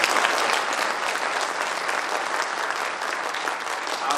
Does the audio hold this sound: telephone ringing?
no